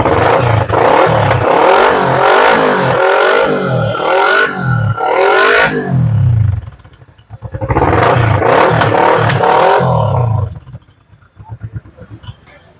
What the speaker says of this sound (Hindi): डीबी किलर के साथ जो साउंड आता है वो सुना देता हूँ